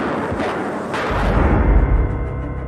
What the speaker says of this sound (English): A man came out and fired some blanks at the pair